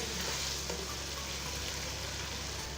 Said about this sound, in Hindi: अदरक और हरी मिर्चें ऐड करने के बाद अच्छी तरह से मिक्स करना है